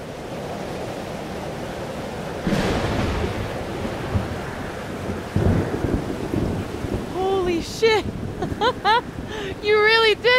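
Storm weather in the video game Life is Strange: Double Exposure: a steady wash of rain and rumbling thunder, swelling into a louder crack partway through, with tonal game sounds layered over the end.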